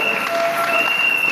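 A church congregation applauds in a dense, steady wash of clapping that holds at an even level throughout, with a faint murmur of voices underneath.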